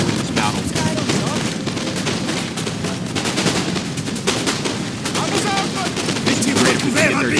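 Lines of muskets in a Napoleon Total War battle crackle in continuous, overlapping volley fire, a loud unbroken roar of shots layered with distant booms and battlefield din.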